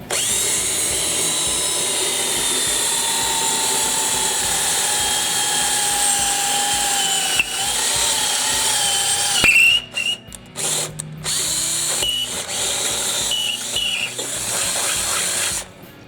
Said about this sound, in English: So I'm going to drill 5/16 holes.